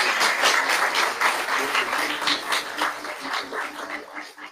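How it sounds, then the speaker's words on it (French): An audience applauds loudly at a Senegalese ceremony as a trophy is presented to the Prime Minister, dense clapping in rhythmic waves with a few cheers, gradually easing off. "On l'applaudit très, très fort."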